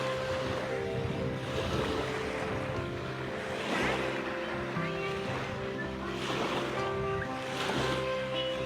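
Ocean waves at Pannori beach on Bone Gulf wash in steady, rolling surges with a few louder swells, under constant wind noise and a faint hum.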